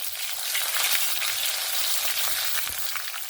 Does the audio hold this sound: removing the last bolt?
no